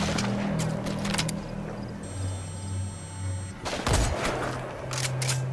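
Gunfire traded with the sniper Quiet in Metal Gear Solid V, with sharp shots cracking at the start and a heavier blast near the middle, over a tonal in-game background.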